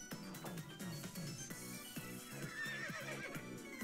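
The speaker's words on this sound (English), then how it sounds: "It whinnied." A horse whinnies in the role-playing game Omori, a clear neigh over a looping game soundtrack with a steady rhythmic beat.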